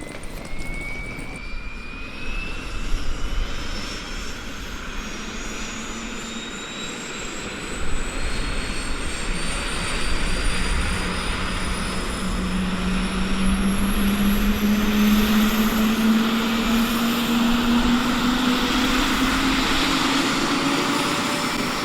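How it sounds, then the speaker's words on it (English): Airplanes land at an airport with a loud, sustained jet engine roar. A whining tone slowly rises as an aircraft draws near, and no one speaks. "Just watching airplanes land before we go and take on our journey that is ahead of us."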